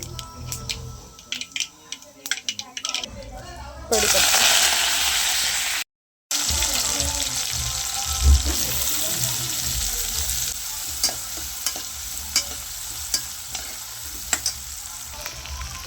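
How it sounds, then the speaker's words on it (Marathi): Mustard and cumin seeds crackle and sizzle in hot oil, a bright steady frying hiss with scattered pops, joined by brief clatters and faint handling sounds. "राई तडतडली की जिरा टाकून देते"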